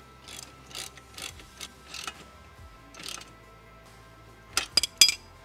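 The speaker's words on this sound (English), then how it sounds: "we're going to go ahead and tighten up the bottom nut to lock her back down." A wrench ratchets a nut tight on a go-kart chain adjuster, with short clicking bursts spaced by pauses and a quick flurry of louder clicks near the end, close by with no talking.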